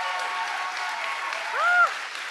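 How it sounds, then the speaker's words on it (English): Audience applause at a medicine talk event, a steady, fairly soft wash of clapping throughout with a brief tonal squeak near the end. "One more round of applause, please"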